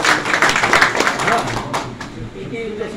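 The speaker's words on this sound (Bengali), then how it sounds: "করতালিতে ওনাকে আমরা রিসিভ করি" An audience at a political campaign gathering breaks into a short burst of clapping that fades within a couple of seconds as a voice speaks over and after it.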